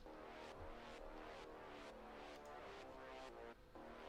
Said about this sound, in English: kind of almost washed out Reese.